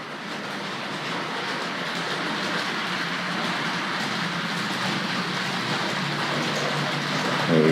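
A Tri-ang model railway train runs around a layout track, giving a continuous close rumbling clatter that grows slightly louder toward the end, with no speech over it.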